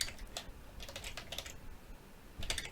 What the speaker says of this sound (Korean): 제 키보드가 약간 또 이상해지려고 합니다